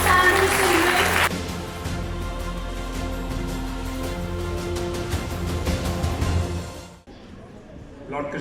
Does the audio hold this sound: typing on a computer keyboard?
no